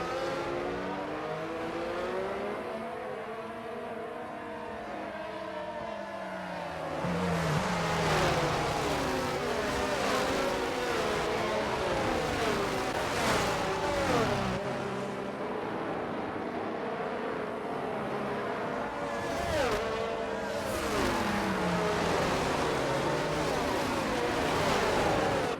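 Formula racing cars in a video game Bahrain Grand Prix, engines whining and revving at high pitch as the pack passes, continuous and loud throughout with rising and falling engine tones and no talking.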